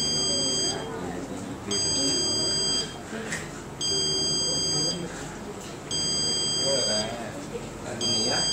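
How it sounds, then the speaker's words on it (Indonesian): An IoT fire alarm buzzer sounds in repeated shrill pulses, about one second on and one second off, five bursts in all, while people talk underneath. "Ini alarm kebakaran"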